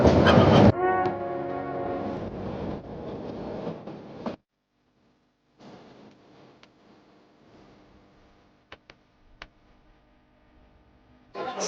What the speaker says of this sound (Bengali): সেই ট্রেনটি হেলে দূরে ছুটছেন তার গন্তব্যে